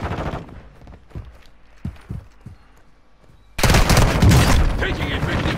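Gunfire in a battle royale video game: scattered single shots over quiet game ambience, then a sudden dense burst of rapid automatic fire that stays loud to the end.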